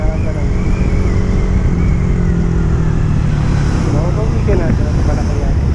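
A motorcycle fitted with a 14/41 sprocket revs steadily and loudly throughout, its engine note rising and falling slightly with a faint whine above the drone, with some background voices mixed in.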